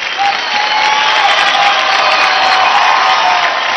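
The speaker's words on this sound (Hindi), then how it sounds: "सेट जोरदार ताली हो जाए विकी दास के लिए।" Loud, dense studio-audience applause with some cheering follows a dancer's performance on a televised dance competition stage, a continuous crowd roar throughout.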